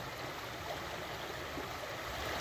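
Water swirled in a gold pan while panning for gold outdoors, a steady rushing, trickling wash with no breaks, close and fairly full.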